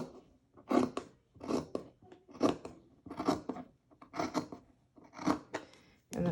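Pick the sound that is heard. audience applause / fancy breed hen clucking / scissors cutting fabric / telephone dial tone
scissors cutting fabric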